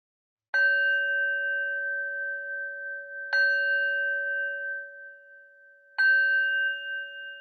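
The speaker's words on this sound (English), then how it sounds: "even as I ring the bell" A meditation bell is struck three times at slow, even intervals, each clear ring hanging and fading before the next strike, with nothing else around it.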